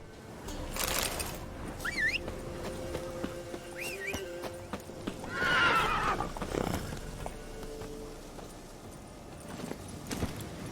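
Roach the horse in The Witcher 3 whinnying several times over the rhythmic clip-clop of galloping hooves, with faint bird chirps and ambient game sound around it.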